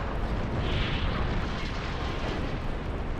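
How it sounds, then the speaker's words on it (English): An ammunition detonation explosion aboard a warship in Ultimate Admiral Dreadnoughts, heard as a loud, continuous roaring blast with heavy low rumble that holds steady for several seconds. "Ammo detonation."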